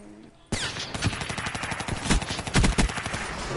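Rapid gunfire from a video game shooter erupts after a brief quiet start, a dense run of sharp repeated shots like automatic fire, loud and close, with a few heavier bursts near the end.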